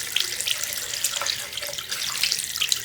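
Tap water runs steadily over a vape coil being rinsed under a faucet, a continuous close splashing stream with small spatters.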